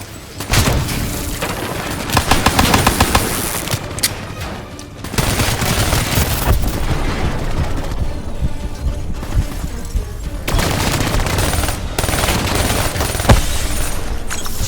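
Dense gunfire rattles through a firefight in the video game Call of Duty: Black Ops 3. Sustained bursts of automatic fire mix with heavy booms and stay loud for nearly the whole stretch, with one brief lull midway.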